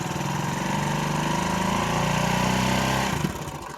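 A vehicle engine running steadily with the oxygen sensor warning light on, a loud close buzzing drone with a rapid regular pulse that dips briefly near the end, no talking.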